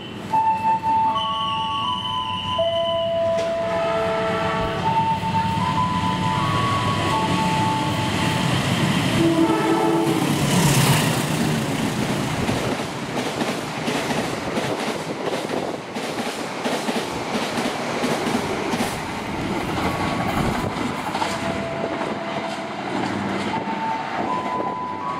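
Manahan passenger train rushing through a station, a long steady roar of rolling wagons with rhythmic wheel clatter and a brief horn-like tone, loud and close throughout with no talking.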